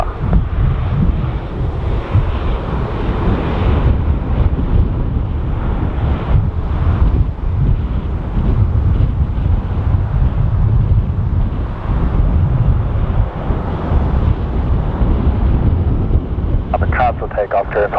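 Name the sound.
strong wind at Dublin Airport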